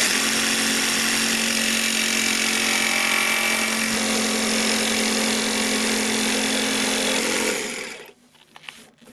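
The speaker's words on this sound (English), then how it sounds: "the blade needs to be running before it hits the wood or it'll stop." A power saw blade cuts through wood for a van floor, a loud, steady high whine lasting several seconds before the saw stops abruptly, followed by a few faint clatters.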